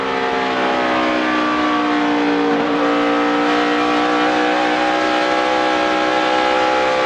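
A 2011 NASCAR Sprint Cup race car at the Texas 500 roars steadily from an onboard camera, engine holding a loud sustained pitch that dips briefly and climbs again, continuous and close throughout.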